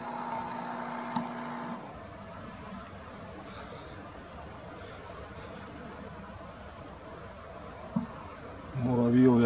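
Mosquitoes hum faintly outdoors at dusk in a steady, thin drone, with a few brief knocks and a louder rustle near the end.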